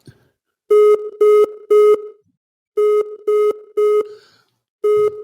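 A telephone busy signal after a call is hung up: loud, clipped electronic beeps repeating in evenly spaced pulses, grouped in threes with short pauses between, and no voices.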